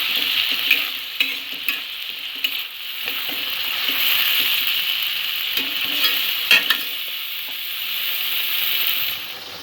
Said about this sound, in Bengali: মশলাটা কিছুক্ষণ ভাজা হতে দেব।